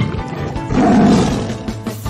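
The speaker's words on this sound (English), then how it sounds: "T for tiger." A tiger's roar sounds in a children's alphabet song, one loud, rumbling growl that swells and fades over about a second.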